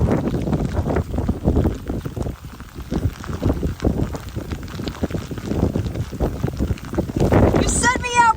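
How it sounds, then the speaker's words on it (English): Strong, steady wind gusts roar across open prairie pothole country with continuous buffeting and microphone rumble, while people talk and a bird calls briefly near the end. "Oh, God, it's windy."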